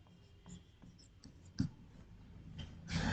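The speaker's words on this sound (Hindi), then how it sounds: "मैं क्वेश्चन लिख देता हूं" Chalk or marker scratching out a question on a board during a lesson on converting decimal to binary numbers, with faint intermittent strokes and a louder burst of scraping near the end, no talk.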